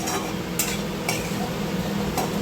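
Dried dates stirred in a pan while making dry fruit laddoo: steady close scraping and rustling with a faint sizzle and a few sharp clinks, no talk.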